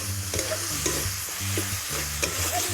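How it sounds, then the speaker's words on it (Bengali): Spice paste with chopped tomatoes stirred and fried in a pan for a spiced spinach chicken dish, giving a steady sizzle with repeated scraping strokes of the spoon, close and alone. "দেখুন, কেটে রাখা টমেটো, এইভাবে আমি নাড়তে থাকবো কিছুক্ষণ।"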